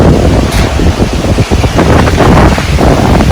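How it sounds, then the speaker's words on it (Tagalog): Strong storm wind in Glan, Sarangani Province buffets the microphone with a loud, continuous roar and rushing gusts, with no speech. "Grabe, lakas ng hangin."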